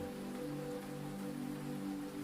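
Soft, steady rain hisses without a break on a rainy night, faint and even, over a low, continuous humming drone.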